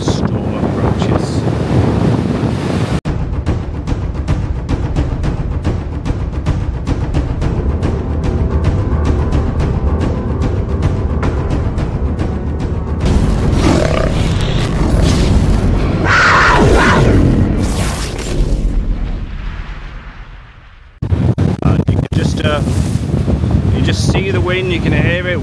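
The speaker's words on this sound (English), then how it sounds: "You can hear it, water is, or the sea's flying over this defence, the fence, shall I say." Stormy sea in Blackpool throwing waves over a sea defence fence, heavy wind buffeting the microphone with a constant loud rumble, surges of crashing spray and a brief dropout near the end.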